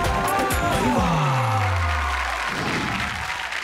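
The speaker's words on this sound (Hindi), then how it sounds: "जोरदार ताली बजाओ" An audience at a Hindi comedy poetry gathering applauds a poet, a continuous wash of many clapping hands with light cheering, alongside a falling musical tone at the start.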